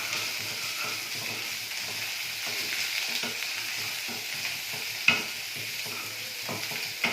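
Chicken 65 is stirred as it fries with onions, chili powder and salt: a steady, close hiss of oil under soft scraping and stirring, with a couple of sharper clinks of the utensil against the pan.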